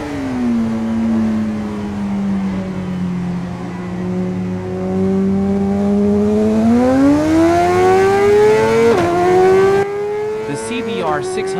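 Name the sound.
Honda CBR 600RR inline four engine revving, video game Ride 5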